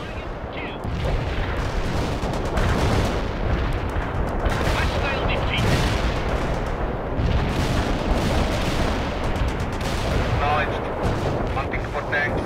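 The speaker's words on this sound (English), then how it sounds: "Heavy barrage annihilated the enemy" Heavy artillery barrage in the World in Conflict video game, Soviet assault in Europe, with dense rolling booms and blasts layered continuously for the whole stretch, loud and close, under faint background voices.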